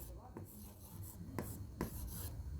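Chalk or marker strokes scratch and rub against a board while writing numbers, several short scraping strokes close by and fairly faint.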